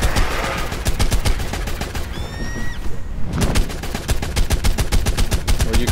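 Rapid gunfire from the Ark Survival Evolved Mobile game, with dense bursts of automatic shots rattling steadily through the clip, a short lull in the middle, then more fire, loud and close.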